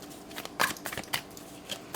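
Tarot cards being shuffled during a pick-a-card reading: soft, quiet papery riffles and slides in short irregular bursts, close by, with no voices.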